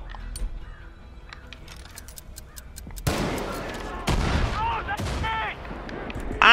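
Artillery fire in the video game Far Cry 5 booms and crackles in heavy bursts mixed with game effects and scattered shots, loud and close, starting abruptly midway after quieter background sounds.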